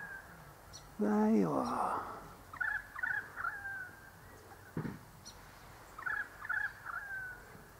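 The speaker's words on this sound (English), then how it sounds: "It's a Rosella, isn't it?" Rosella parrot giving a few short, bright, whistled calls in separate bursts on a cold July day, fairly faint and at some distance, with a person speaking briefly between them.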